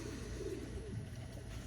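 Pigeons coo softly and low in the background, a faint, steady murmur of calls that continues through the short stretch with no talk.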